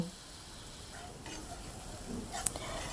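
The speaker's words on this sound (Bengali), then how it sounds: "পরিমাণ মতো হলুদ, মরিচের গুঁড়ো, ধনের গুঁড়ো, জিরের গুঁড়ো সব মশলা দিয়ে আবারও ভালো মতো কষিয়ে নেব" Ground turmeric, chili, coriander and cumin fry in oil in a pan for rohu fish curry, a faint, steady sizzle with soft stirring and a brief clink of a utensil.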